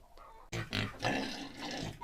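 Piglets in a farm barn grunting and squealing close by in short overlapping bursts, fairly faint overall, with no talk.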